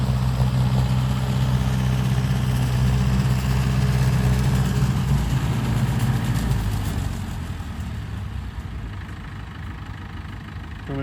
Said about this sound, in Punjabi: ਬਹੁਤ ਸੋਹਣਾ ਚੱਲਦਾ ਟਰੈਕਟਰ ਬੁੱਥਿਆਂ ਦੇ ਬਹੁਤ ਜ਼ਿਆਦਾ ਸੋਹਣਾ